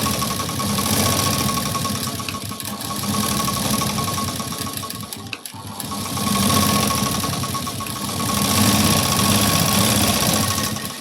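A sewing machine stitches a blouse sleeve, running in long steady bursts with brief pauses between them, close and fairly loud with no talking.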